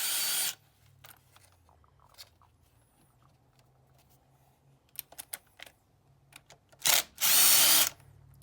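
A power tool loosens the 8mm valve cover bolts on a Mazda CX-7 in a couple of loud, short bursts near the end, separated by quiet stretches of light clicks and tool handling.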